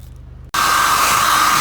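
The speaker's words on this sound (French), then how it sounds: "maintenant avec un sèche-cheveux, en fait, il faut bien faire sécher le truc." A hair dryer switches on abruptly after a brief quiet hum, then blows loud and steady at close range while drying a repaired leather car steering wheel.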